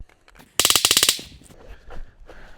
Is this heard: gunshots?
yes